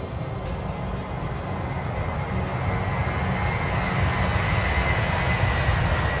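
Airbus A320 engines on approach in the Fenix flight simulator, a steady broadband jet roar with low rumble holding for several seconds, no voices over it.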